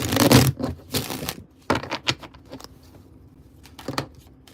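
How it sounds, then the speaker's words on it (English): Tarot cards are shuffled in quick riffling bursts, a loud flurry at the start followed by softer scattered flicks and taps. "Last shuffle for you all."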